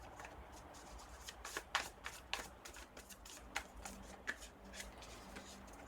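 Tarot cards shuffled and drawn for a pick-a-card reading, a steady soft riffling rustle with several sharper card snaps and slaps, close and fairly quiet, with no talking.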